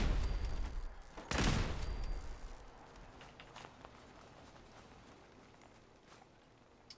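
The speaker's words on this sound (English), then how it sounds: "we've got to blow up all these turrets or they're going to turn on my turrets." Burst of gunfire in Fallout 4 as enemy turrets are shot and destroyed, a loud dense volley near the start followed by scattered fainter shots and clatter fading out.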